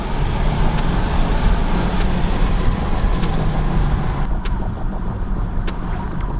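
A 2019 Jeep JL with a Magnuson-supercharged V6 on 35-inch tires accelerates, giving a steady broadband engine and road roar heard from inside the cab, with no talk.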